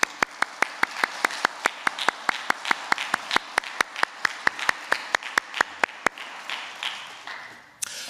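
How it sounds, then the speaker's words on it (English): Sharp, evenly spaced claps at a primary school assembly beat a quick regular rhythm for about six seconds, then stop, leaving quiet room sound and one last clap. "could we give all of those people at Mount Marion and all of our governors and all of the school staff"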